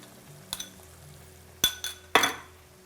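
Veggie stock stirred into tomato paste in a pan for a spaghetti bolognese, heard as a few sharp utensil clinks and scrapes against the pan, spaced out over quiet kitchen background with no talking.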